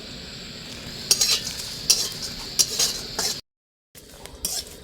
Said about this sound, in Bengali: শুকনো লঙ্কা, 5 ফোড়ন, ধনে জিরে, এলাচ লবঙ্গ তেজপাতা সব একসঙ্গে ভেজে নেব।